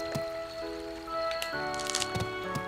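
Rain in the Harvest Moon: Animal Parade video game, a soft, quiet patter of drops with scattered splashy ticks over sustained game music tones, no speech.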